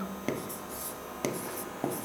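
Writing on a board gives a soft, scratchy rubbing sound, broken by three sharp taps as strokes begin, close and quiet in an otherwise still room.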